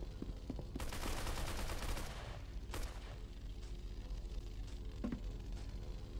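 Video game gunfire during a trampoline glitch shooting attempt: a loud burst of rapid shots in the first two seconds, then one more sharp shot and a fainter one later, all over a steady game background hum.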